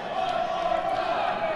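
Wrestling crowd at an indoor independent show chanting together, a steady roar of many voices throughout, with a commentator talking over it.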